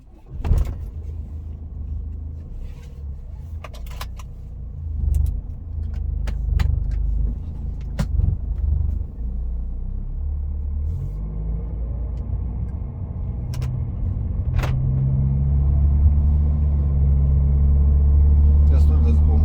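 Worn BMW E46 320d diesel engine with nearly 500,000 km idling up close, a steady low rumble that thickens and grows louder toward the end, with clicks, handling noises and some talk around it.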